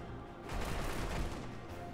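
Gunfire in the twin-stick shooter Halo Spartan Assault, a dense, continuous burst of rapid shots and explosions that swells and stays loud throughout.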